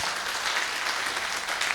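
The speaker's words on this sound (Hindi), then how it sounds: "एक बार मैं चाहूंगा इस वृक्ष के लिए जोरदार ताली बजा दीजिए" A crowd claps loudly and continuously during a talk gathering, a thick, uniform wash of many hands with no voice over it.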